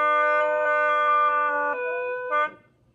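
A hulusi gourd flute blown with the wrong pressure on its reeds holds a bright, reedy sustained tone that wavers, drops pitch partway through and breaks off near the end, played alone and close.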